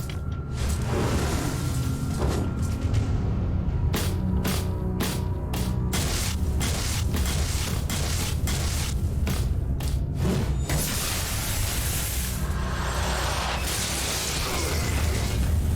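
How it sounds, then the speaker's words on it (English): An explosion rumbles through the Animus: Revenant video game over dense, loud game audio, with a cluster of sharp bursts and thumps in the middle and a continuous low roar underneath. "I'd rather be hit by that explosion than by the projectiles after it."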